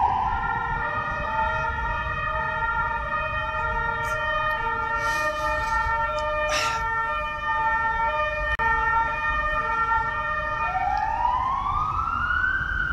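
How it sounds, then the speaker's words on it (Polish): An ambulance siren wails through the streets in a steady, rising and falling tonal cry over traffic rumble. Near the end the pitch sweeps sharply upward as the vehicle passes. "Karetka pogotowia."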